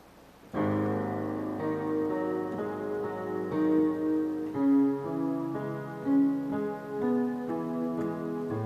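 Piano plays the left-hand part of a pop song, a steady run of sustained low chords and bass notes moving through changing positions, loud and clear with no talking.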